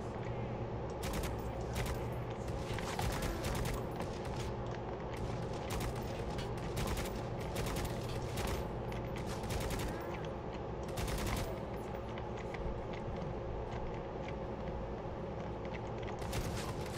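Bolter gunfire in the video game Necromunda: Hired Gun, with repeated rapid bursts of shots cracking over a steady, dense game background throughout.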